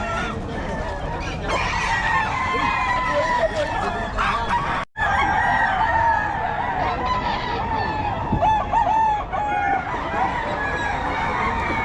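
Roosters and chickens at the Bocaue market, densely packed, sound off in loud overlapping crowing and clucking with honk-like calls, a continuous close chorus with a brief break partway through.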